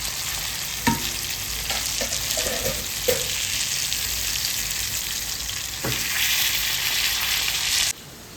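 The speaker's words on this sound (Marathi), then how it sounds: "रावस फ्राय आपलं झालंय वाटते" Pieces of rawas, Indian salmon, fry steadily in a pan with a continuous loud hiss, punctuated by a few sharp clinks and scrapes as the pieces are turned, then the sizzle cuts off abruptly near the end.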